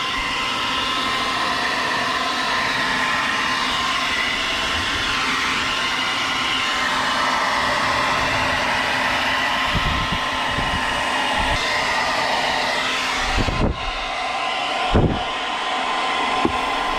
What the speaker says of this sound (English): we're going to take a heat gun to make sure everything is